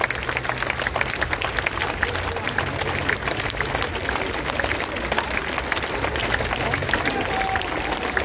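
Dense, sustained applause from a concert audience at a tribute evening to a singer, steady crackling claps filling the hall from start to finish with no pauses.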